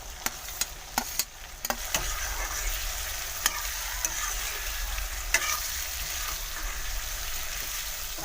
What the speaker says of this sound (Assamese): এতিয়া বইল কৰি থোৱা বাঁহগাজখিনি মাংসৰ লগত দি দিম।